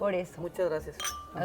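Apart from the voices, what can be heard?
glasses clinking in a toast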